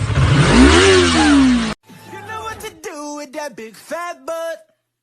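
A car engine revs hard for a couple of seconds, loud and close, with a rising then falling roar, before it cuts off and people talk excitedly.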